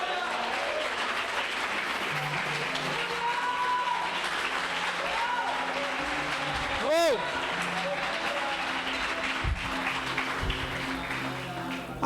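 Church congregation applauding during a Portuguese-language sermon, a steady broad wash of clapping running the whole time beneath a preacher's voice, with one brief whooping tone rising in the middle.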